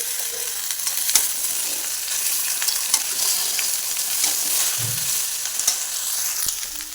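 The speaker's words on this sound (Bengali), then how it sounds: "এবার আমি দিয়ে দিচ্ছি ছোলা কচুগুলো।" Chopped taro pieces and crushed garlic fry in a hot pan, giving a steady, close crackling sizzle with a few faint stirring clicks throughout, and no voices.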